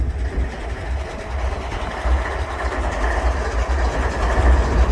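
A freight train hauling containers behind a single lead locomotive, numbered 742, rumbles steadily, with a deep engine drone and continuous rolling rail noise, heard from close by with no voices.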